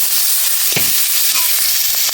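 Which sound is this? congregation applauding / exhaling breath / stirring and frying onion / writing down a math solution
stirring and frying onion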